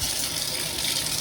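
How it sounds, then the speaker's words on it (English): Tap water pours steadily into a bathtub during a ceiling leak check, producing an even, close, continuous rush with no voices. "Now I'm going to run water into the tub and see if I still get a leak down below."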